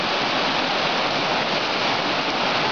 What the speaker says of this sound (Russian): Сильно пошла вода, сильно тает. Это с храмового пруда идет вода в лагерный пруд.